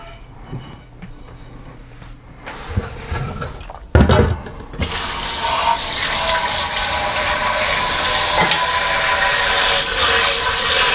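Running tap water pours steadily to wet a rolling pin while baking cinnamon rolls; after a few handling knocks, a loud continuous gushing hiss starts at about five seconds and lasts to the end.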